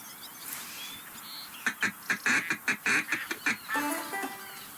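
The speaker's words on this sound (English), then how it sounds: "Look, more ducks over there." Ducks quacking in the Duck Dynasty hunting video game, a burst of about ten loud, evenly spaced quacks in quick rhythm over steady outdoor ambience, fading into softer calls at the end.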